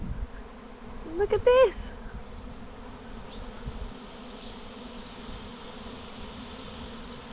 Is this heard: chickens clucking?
no